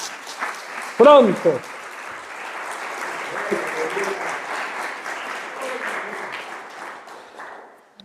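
Church congregation applauding during a Spanish-language Sunday service, a sustained wash of clapping from many people in a large room that slowly fades away, with a brief shouted word and a few voices near the start.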